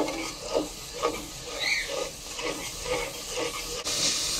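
Mutton in a pan with yogurt and spices being stirred, a soft sizzle under rhythmic scraping strokes of the spoon repeating about every half second, close and moderately loud.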